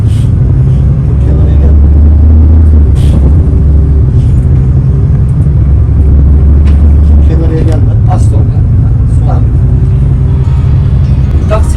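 A car engine rumbles loud and close inside the vehicle as the driver is coached to press the gas, with a heavy, sustained low drone throughout and people talking over it.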